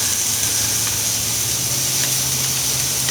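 Short ribs sear on a grill with a steady, loud hiss and sizzle, close and unbroken, with no voices over it.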